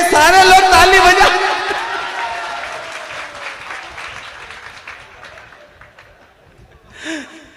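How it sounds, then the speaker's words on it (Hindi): An audience at a Hindi comic poetry recital claps loudly for about a second under a strong, drawn-out voice. The applause quickly thins away, and a faint sound rises near the end. "सारे लोग ताली बजा"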